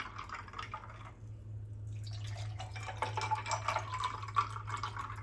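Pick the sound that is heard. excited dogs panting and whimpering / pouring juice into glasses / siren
pouring juice into glasses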